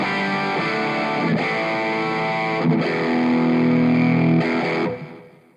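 A distorted electric guitar through FRFR speaker cabinets, each close-miked and panned hard left and right, plays sustained chords with brief gaps, loud and up close, then rings out and fades at the end; no voices.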